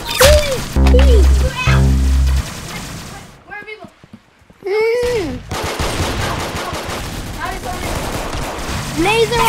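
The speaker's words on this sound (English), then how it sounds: "Laser rifle!" Rapid bursts of laser rifle gunfire crackle in the Roblox Arsenal video game, coming in loud volleys mixed with other game effects and excited voices, and dropping out briefly in the middle.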